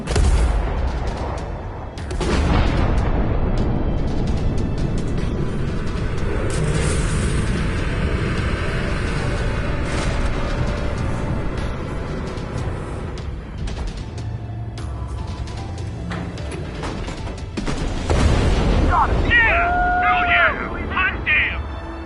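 Weapon fire and explosions in the Ace Combat 7 flight combat game, a loud continuous roar with heavy booming blasts, under radio voices talking.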